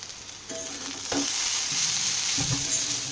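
Pointed gourd (potol) fries in a pan, a steady close sizzle with a few soft utensil knocks and stirring clinks, no talking.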